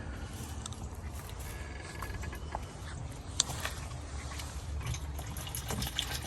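Steady rainwater runoff flowing from a rain collection tank system in a garden, a continuous soft broadband wash with faint trickles and drips, moderately close and fairly quiet throughout.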